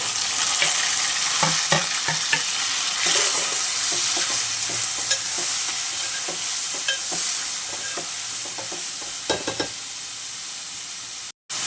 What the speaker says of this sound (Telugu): ఇప్పుడైతే ఉల్లిపాయలు పచ్చిమిరపకాయలు టమాటాలు కూడా వేసుకుని బాగా ఫ్రై చేసుకోవాలి